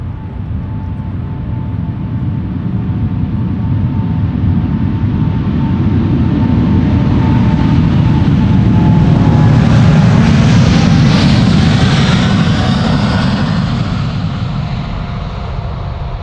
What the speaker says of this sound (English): it is departure time for KLM flight 751 to Kilo. It's 777-200